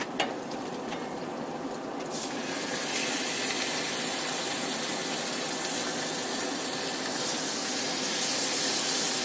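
Steaks searing in garlic butter in a pan, a constant loud sizzling hiss that grows fuller over several seconds, steady and close with no voices.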